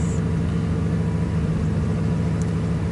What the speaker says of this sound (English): Let's rev it up a little bit.